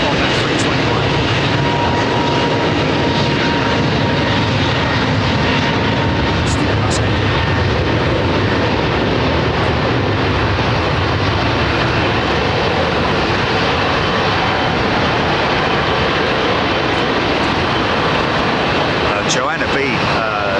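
Aircraft at London Heathrow Airport, a loud, continuous broadband roar of engines that fills the whole span without a break.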